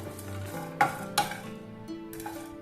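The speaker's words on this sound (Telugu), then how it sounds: "వీటన్నిటినీ బాగా వేపుకోవాలి" Spices fry and get stirred in a pan for mutton curry, a soft sizzle under a few sharp scrapes and clinks of a spoon against the metal, close and fairly quiet.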